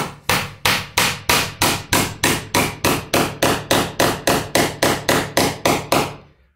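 Steady hammer blows drive a nail into wood while a headboard is built from old wardrobe doors, about eighteen evenly spaced sharp knocks, close and loud, with no talking.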